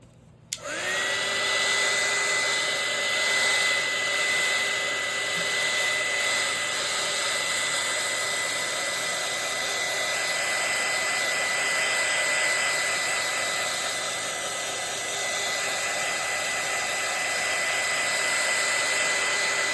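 A hair dryer switches on and runs steadily, drying a painted napkin journal page, giving a loud constant whooshing blow with a sustained motor whine for about twenty seconds.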